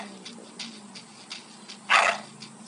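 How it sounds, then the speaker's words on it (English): Snowy the dog gives a short, bright bark in The Adventures of Tintin video game, heard once over a steady background hum with faint rhythmic pulses around it. "Barking."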